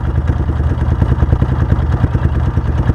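Malcor XZF 250cc motorcycle engine idling in the middle of an oil change, a steady low rumble with rapid even firing pulses and light mechanical clatter, close and loud.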